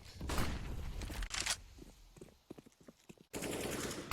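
Rapid bursts of automatic gunfire in a professional Counter-Strike match, loud clustered shots followed by sparser single cracks and a final sustained burst.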